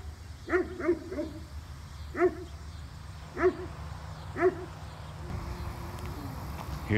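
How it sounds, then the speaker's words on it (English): A dog barks in short bursts near a barn in Coshocton County, a quick double bark followed by spaced single barks, moderately close over steady outdoor background noise. "Here's the other attack dog."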